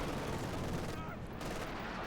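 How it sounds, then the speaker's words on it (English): Dense rapid gunfire from the Company of Heroes 2 strategy game, a loud continuous rattle of shots over a brief lull, with a caster's voice faintly mixed in. "Intensity fire here from the Scots. Just sniping away everything here that Dezman has"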